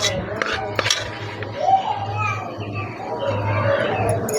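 Utensils scrape and clink against dishes as fried onions are separated from oil and moved onto a plate, with light metallic taps over a steady background hum and soft speech.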